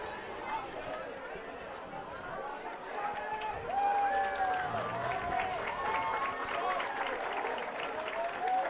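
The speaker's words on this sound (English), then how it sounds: "As they're clapping for her as she leaves" Scattered clapping from a large crowd at a high school football game rises and holds steady as an injured player is taken off by ambulance, mixed with a broad murmur of voices and a distant announcer-like voice.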